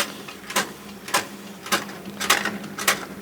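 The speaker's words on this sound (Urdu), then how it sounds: "یہ آپ کو پرنٹر کی آواز آ رہی تھی. میرا پرنٹر اولڈ پرنٹر ہے اس لیے اتنی آواز کر رہا ہے." An old printer printing a page, giving a quiet repeating mechanical clack about every half second over a steady motor hum and some background hiss.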